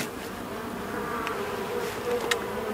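Honey bees buzz steadily at an open hive during a beekeeping inspection, a close, continuous drone with faint brief louder passes as individual bees fly near.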